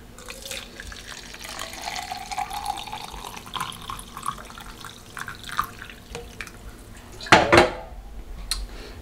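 Hot water is poured into a glass at home, a short, louder splashing pour near the end following soft clinks and kitchen clatter, close by and without talk.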